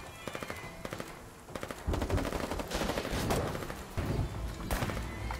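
Rapid machine-gun bursts and single gunshots from the war video game Foxhole, with sharp clustered reports early on, then denser, louder continuous firing and overlapping volleys from about two seconds onward.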